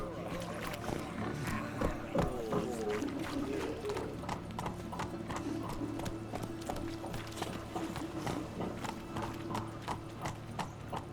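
Roach, the horse in The Witcher 3, gallops in a fast, steady clatter of hooves, loud and continuous over game ambience and background sound.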